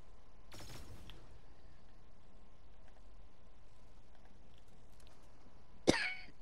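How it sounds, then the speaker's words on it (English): A person coughs while playing Fortnite Duos at home at night: one rough burst of coughs near the start and a sharper single cough near the end, with quiet room background between them. "We're both coughing tonight."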